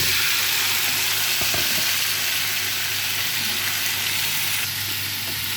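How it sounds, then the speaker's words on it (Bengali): Marinated chicken sizzles steadily in mustard oil, a loud, continuous hiss of frying with a few faint stirring knocks, no one talking. "সামান্য একটু সরষের তেল দিয়ে দিব মাখাই রাখা চিকেনটা এখন দিয়ে দিব"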